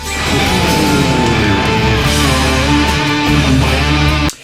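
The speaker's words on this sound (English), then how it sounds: "the first phrase sounds like this" Electric guitar in standard tuning plays the opening solo phrase of a song, a dense sustained lead line with bends and fast runs over a full, loud backing that cuts off abruptly at the end.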